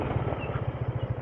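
A motorcycle engine idles at a riders' hangout at Stonehill Farms in Barangay Makilas, putting out a steady, low, rapidly pulsing rumble at moderate volume with no talking over it.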